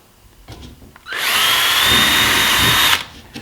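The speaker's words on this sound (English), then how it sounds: "you drill a hole all the way through" A power drill spins up and bores through plywood for roughly two seconds, a loud close whine with grinding texture, then cuts off abruptly.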